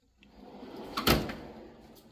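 Snap-on toolbox drawer sliding shut on a mechanic's VW/BMW roll cab, a single firm metallic thud with a short rattle that rings out and fades, heard up close with no talking.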